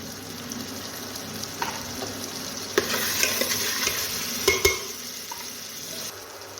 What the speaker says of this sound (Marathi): कांदा छान फ्राय करून घेऊ कांदा फ्राय होत आलेला आहे